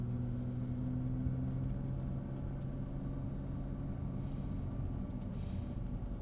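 BMW race car lapping the Oulton Park circuit, its engine holding a steady, loud drone throughout with no clear gear changes or other sounds.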